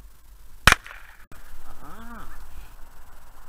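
A single sharp blank-pistol gunshot crack rings out once, sharp and loud, followed by quieter ambient noise and some tonal calls in the background.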